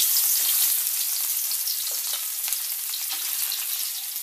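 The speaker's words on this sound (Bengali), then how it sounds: "এখন মাছগুলো ভেজে নিব।" Rohu fish pieces frying in hot oil in a wok, a steady loud sizzle and crackle that fills the whole stretch with no talking.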